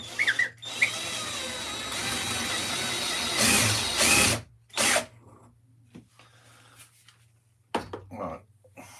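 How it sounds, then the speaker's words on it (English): A power drill runs continuously for several seconds, close and loud, then cuts out, followed by a few short bursts and clattering. "I'll just drill this one out while I'm here"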